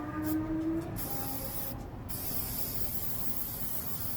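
Continuous loud hiss of an aerosol spray coating being applied in a thin layer to craft coasters, steady throughout, with a brief change in tone early on.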